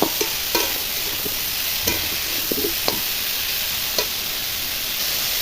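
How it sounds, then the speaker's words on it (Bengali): A steady, close sizzle of catla fish frying in a pan with turmeric and salt, with occasional light clicks and pops from stirring. "এইভাবে ভালো করে ভেজে নেব কিছুক্ষণ।"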